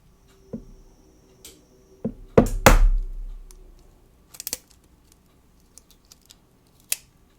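Eggs cracked for lavender oatmeal cookies in a cozy kitchen, a few sharp close taps and cracks with a brief wet rustle between them and scattered small clicks afterward in an otherwise quiet room.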